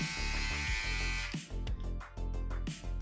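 A Philips OneBlade Pro electric shaver runs continuously with a steady, close buzzing hum that shifts in pitch as it moves over the skin during a shave.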